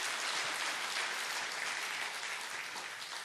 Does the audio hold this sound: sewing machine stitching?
no